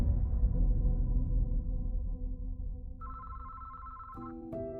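A telephone rings in a steady electronic tone that enters partway through, over a low rumbling drone, then shifts pitch near the end.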